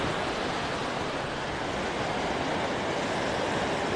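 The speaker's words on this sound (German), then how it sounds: "Und hier einmal das Meer." Sea waves at Gündoğdu beach wash in a steady, dense hiss of surf, moderately loud and unbroken over a few seconds, with no voices.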